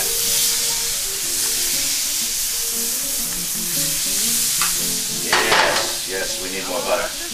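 Catfish fillets sizzle in butter and margarine in a skillet for blackened catfish, a loud, continuous frying hiss with a few sharper spatters and clinks near the end, no voices.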